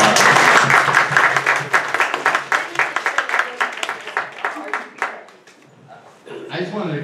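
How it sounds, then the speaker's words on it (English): A round of applause at a tenants' rights housing forum, dense clapping that thins and fades out, then a voice starts talking near the end. "let's give Pilar and Eliana a big round of applause"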